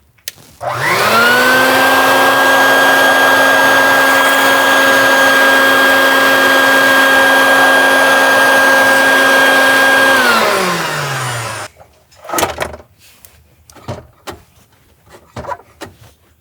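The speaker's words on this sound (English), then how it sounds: "I'll just vacuum the mouse turds out of here real quick." A vacuum cleaner roars steadily for about ten seconds, sucking mouse droppings out of a Chevy Square Body truck, then winds down, followed by a few clunks and knocks.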